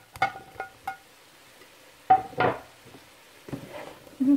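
Zucchini goes into a pan of coconut chicken curry and is stirred, giving a few scattered scrapes and clinks of a utensil against the pan over a light sizzle.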